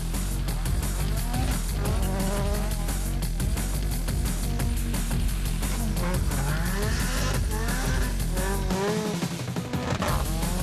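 A Caterham 620R sports car's engine roars loudly and continuously, the pitch rising and falling through repeated revs and gear changes, close and unbroken for the whole stretch.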